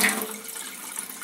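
Water runs steadily from an Enagic K8 Kangen water ionizer, a continuous close hiss and splash of flowing water that stays even throughout.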